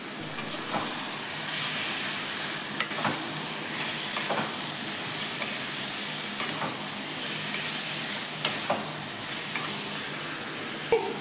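Marinated chicken stirred in a hot pan, a steady sizzle broken by periodic spatula scrapes and light knocks against the pan.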